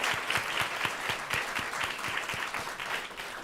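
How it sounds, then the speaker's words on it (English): Audience applause for a panel discussion on New York City parks partnerships, a steady crowd clapping with dense, overlapping hand claps at moderate volume and no voices on top. "If we can get another round of applause just to close them out"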